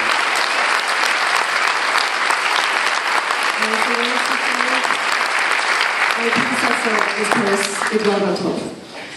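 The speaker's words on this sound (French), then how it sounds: "Je vous invite à l'applaudir aussi." An opening-ceremony audience applauds in a sustained, dense round of clapping, with voices and a faint musical tone surfacing partway through before the applause thins and fades at the end.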